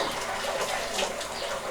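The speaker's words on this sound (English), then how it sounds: "You add the hot water. It's got to be boiling hot, really hot." Boiling hot water is poured from close by onto maize meal paste in a pot on a stove for sadza, a continuous gushing splash lasting the whole moment.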